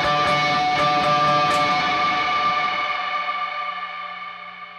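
Electric guitar chord ringing out with heavy delay and reverb, repeating echoes smearing together before the sound slowly decays to a long fading tail.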